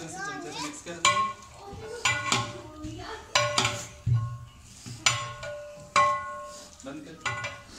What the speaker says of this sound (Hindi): अभी इसी तरह से चमचे से मिक्स कर देंगे